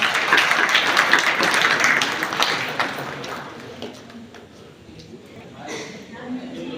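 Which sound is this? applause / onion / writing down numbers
applause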